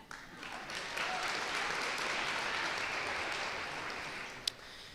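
An audience at a college athletics awards event claps in a sustained round of applause that swells in after a second and holds steady, fairly faint and distant, with one sharp clap standing out near the end.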